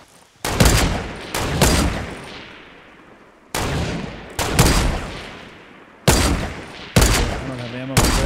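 Gunfire in the video game Fortnite: about six loud, booming shots at irregular intervals, each trailing into a long reverberant decay.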